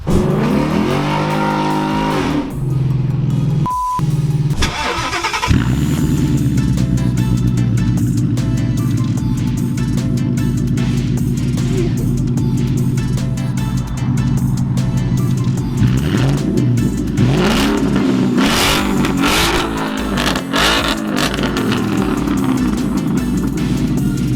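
A loud car engine with a straight-through exhaust revs repeatedly, roaring up and dropping back to a deep idle, close by and sustained throughout.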